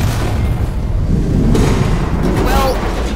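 Rumbling explosions in the Alien: Isolation video game boom through a dense, continuous low roar, loud and sustained, with a voice talking over the blasts.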